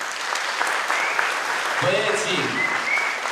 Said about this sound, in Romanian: Să le aplaudăm!